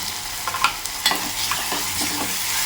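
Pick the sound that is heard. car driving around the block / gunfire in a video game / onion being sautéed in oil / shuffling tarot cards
onion being sautéed in oil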